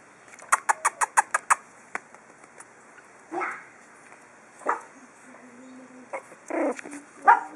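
Newborn pug puppies give a quick run of high squeaks and yelps, then scattered whimpers and soft cries at close range, with brief quiet gaps between them.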